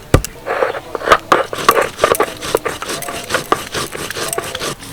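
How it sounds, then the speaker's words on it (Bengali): Ginger, cumin seeds and cinnamon sticks being ground together into a spice paste, heard as repeated rough rubbing and grinding strokes with sharp scraping clicks in an uneven, steady rhythm, close and fairly loud without talk. "তবে হ্যাঁ সময়টা কম লাগার জন্য একবারেই আমি বেটে নিচ্ছি"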